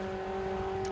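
Formula Ford 1600 race cars running past into the first corner at Kirkistown circuit, a steady close engine drone with strong sustained tones held throughout the brief moment, no voices.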